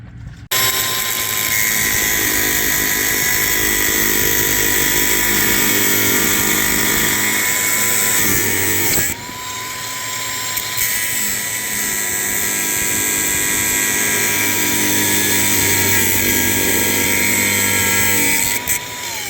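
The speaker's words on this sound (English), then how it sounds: "this grinder with a cutoff wheel will take your finger off as easy as it will this chain" An angle grinder fitted with a cutoff wheel cuts through metal chain, a loud, steady high-pitched whine that dips briefly midway as the wheel bites, then resumes at full speed.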